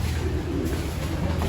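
Pet pigeons kept in a loft give soft, low cooing that sits close under a steady wash of background noise, with no talking.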